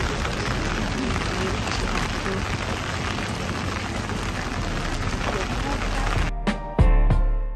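Steady rain falls across an outdoor street in Nürnberg, Germany, a continuous dense hiss under the city, ending with a few sharp knocks and a brief tonal sound.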